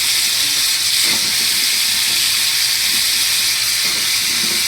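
Carrots and papaya go into a pot of chicken stew, setting off a loud, even, hissing sizzle with a couple of soft clunks and stirring scrapes, no voices.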